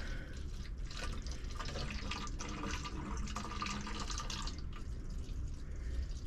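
Saltwater flows steadily from a slow pump outlet during a water change on a 90-gallon mixed reef aquarium, a continuous close trickle and splash with no talking.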